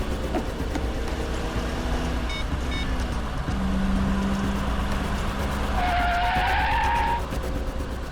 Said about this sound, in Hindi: जरा गाड़ी आराम से चलाओ